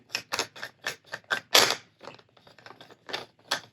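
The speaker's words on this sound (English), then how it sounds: "to get to everything, you have to unscrew the entire grip, which screws up here at the top" A lightsaber grip being unscrewed from its hilt makes a quick run of dry, close mechanical clicks and rasps, irregular and fairly loud, with no talking.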